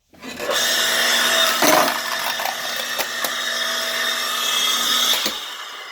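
An electric log splitter forcing apart red oak firewood: a steady mechanical whine runs throughout, with sharp cracks and splintering snaps of the wood breaking, close and loud, with no talk.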